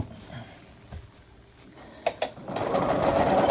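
A sewing machine stitching a quarter-inch quilt seam for a 3D pinwheel quilt top. It starts quiet with a couple of small clicks, then runs steadily and loudly for the last second.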